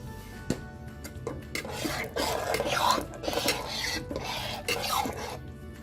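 A spoon stirs radish lentil tamarind sambar in a pot, making repeated close scraping and clinking strokes against the metal over a low simmer.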